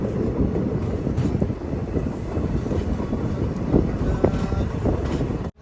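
A passenger train runs through snow-covered Qazigund station in Kashmir, its wheels rumbling and clattering steadily over the rails amid wind buffeting, heard from onboard.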